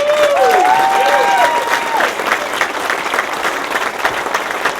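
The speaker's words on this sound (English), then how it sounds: "a round of applause for people with great courage" Loud, sustained applause from a large crowd fills the whole stretch, with a few whistles rising over the clapping at the start.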